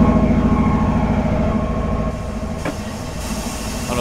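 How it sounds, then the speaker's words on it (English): In Train Simulator 2017, a passenger train passes a freight train with a steady, loud low rumble of locomotive engine and rolling wagons. The drone eases slightly midway, and a faint clank sounds. "Our first passenger car is passing"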